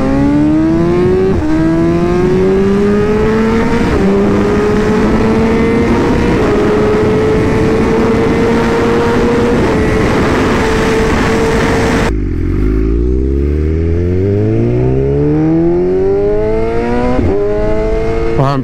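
A BMW M1000RR superbike pulls hard down a speedway straight, its engine note climbing through several gear changes before a sharp cut to a second run of rising revs, loud and close with no talk.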